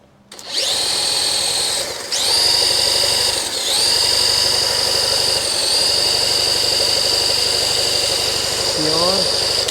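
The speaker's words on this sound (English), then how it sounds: "we'll turn the key on, use our electric start, and let's see what happens" Electric starter of a Honda CM91 motorcycle whirring steadily for about nine seconds, a loud, continuous high-pitched mechanical whine with a squealing edge, close by, with no catch of the engine firing.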